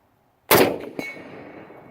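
A single loud, sharp report from a used Springfield M1A rifle cracks out of silence, followed by a ringing metallic clang and a decaying outdoor echo.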